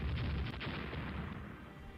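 Naval ship guns firing in the warship strategy game Rule The Waves, a dense rumbling barrage of heavy booms rolling continuously and loudly with no gaps.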